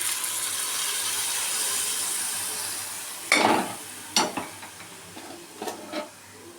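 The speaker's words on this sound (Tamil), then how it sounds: "அதே கடாயில் கொஞ்சம் எண்ணெயை எடுத்துட்டு வேக வச்ச சிக்கனை போட்டிருக்கிறேன்" Boiled chicken pieces drop into hot oil in a kadai, giving a steady soft sizzle, broken by a few sharp clatters and scrapes of stirring near the end.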